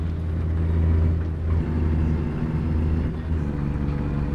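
A truck engine in the American Truck Simulator video game drones steadily at a low pitch, loud and close, with slight shifts in tone as the revs change, and no voices over it.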